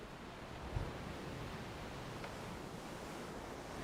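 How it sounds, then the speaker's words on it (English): Waves wash steadily over the rocks at a waterhole, a continuous broad roar of surf blended with wind noise, with no voices. "listening to the waves."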